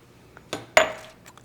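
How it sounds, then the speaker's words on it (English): A metal steamer basket set down inside a rice cooker pot, making a couple of close metallic clanks with a brief ringing tail followed by a faint tap. "and then put your steamer inside the pot"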